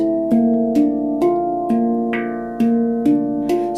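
Bright metallic handpan tones struck one after another in an even, flowing arpeggio, each note ringing warmly into the next, played alone.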